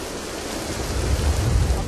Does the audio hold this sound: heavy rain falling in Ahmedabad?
yes